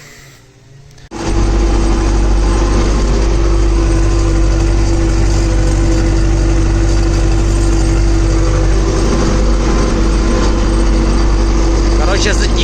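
An MTZ tractor engine runs loudly and steadily in second gear while working a field with a disc harrow, a droning roar starting after a brief quieter moment and continuing unbroken.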